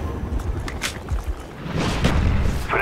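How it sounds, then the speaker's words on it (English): Grenade blast in Call of Duty: Black Ops multiplayer: several deep booms and thuds amid gunfire-like bursts, close and punchy, with a louder, harsher explosion sustained near the end. "Oh, random nade got me"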